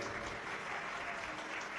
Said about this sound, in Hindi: एक बार आपके लिए भी जोरदार ताली बजाकर साधुवाद